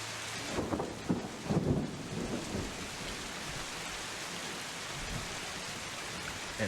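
Steady rain pours down with low rumbles of thunder rolling through the first couple of seconds, continuing as an even wet hiss with no voices.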